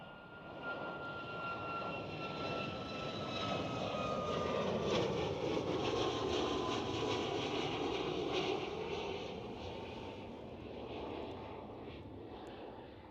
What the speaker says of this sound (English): it was a 737 MAX